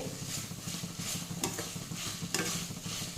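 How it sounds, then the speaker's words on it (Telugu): Ginger garlic paste frying in a pan, with a dense, busy sizzle and repeated stirring scrapes and spatula taps throughout, close and fairly loud, no one talking. "ఇది అల్లం వెల్లుల్లి పేస్ట్ పచ్చి వాసన పోయేంత వరకు వేయించుకోవాలి"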